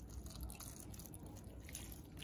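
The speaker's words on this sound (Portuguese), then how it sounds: "agora eu vou jogar um pouco de água limpa nele todinho, tá? Pra tirar o sabão" Clean water poured over a large crown cactus to rinse off soap, a steady faint splashing and trickling stream with dripping, continuous and close, no voices.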